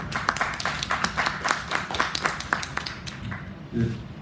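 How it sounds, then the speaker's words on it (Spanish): Audience members at a legal rhetoric lecture clap for an introduced speaker, a thin run of distinct claps at a steady pace that tapers off near the end as a voice begins. "un aplauso también para él, por favor"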